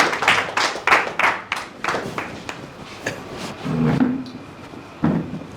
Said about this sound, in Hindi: आओ सादर ताली के साथ में स्वागत करो